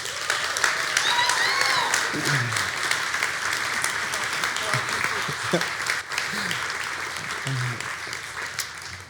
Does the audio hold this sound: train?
no